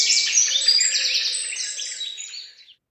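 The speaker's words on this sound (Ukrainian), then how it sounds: "А чому ж вони так голосно цвірінькають?" Small birds chirp and tweet loudly in a dense, overlapping flurry of high calls that fade out after a few seconds.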